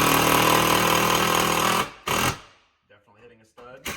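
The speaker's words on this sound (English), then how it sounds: "we'll throw a couple more screws in the middle" A power driver sinking screws through a gun display wall into a stud, a loud sustained whirring burst that cuts off, then a short second burst, followed by someone talking.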